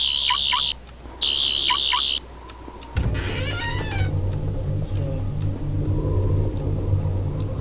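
Sonic screwdriver in Garry's Mod locking like a car, two loud electronic chirp beeps followed by a rumbling engine-like hum with a rising whine, close and alone.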